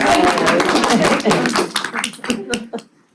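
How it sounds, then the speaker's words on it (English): Clapping from the audience at a city council budget workshop, close and fairly loud, thinning out into a few scattered claps before fading to quiet. "Give her a round of applause."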